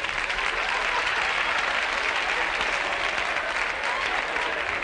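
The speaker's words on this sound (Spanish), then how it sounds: "Un fuerte aplauso para ella." Steady, dense audience applause for the poet Gloria Fuertes on a television comedy show, loud and continuous for about five seconds with no talk over it.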